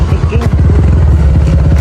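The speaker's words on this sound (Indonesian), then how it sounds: "Motor kayak motor ninja tapi ya." A motorcycle that resembles a Kawasaki Ninja runs close by during a large street ride with many bikes, its engine giving a loud, steady, throbbing drone throughout.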